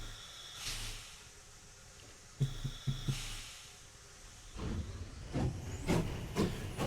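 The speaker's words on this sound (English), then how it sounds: "that's a nice chuff loop" Steam locomotive chuffing in the train game Railroads Online: a few widely spaced hissing exhaust puffs early on, then a quicker run of rhythmic chuffs toward the end over a low rumble, moderately near.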